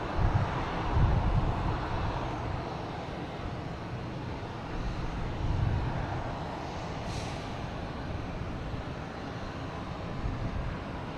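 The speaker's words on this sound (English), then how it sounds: "As the American Airlines coming in from Phoenix." An American Airlines jet inbound from Phoenix arrives at Boston Logan Airport, its engines a broad steady roar that swells and fades gently over several seconds, with no voices.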